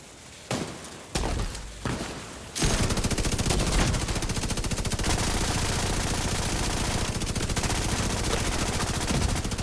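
The Bullet King machine gun fires in the shooter game The Division 2: a few separate shots, then a long, unbroken stream of rapid automatic fire, loud and dense for most of the clip.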